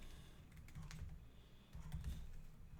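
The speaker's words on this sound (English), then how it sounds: "I'm gonna type in hello world" Typing on a computer keyboard during Xcode app testing, a quick run of light clicking keystrokes close by, steady for a few seconds with no talk.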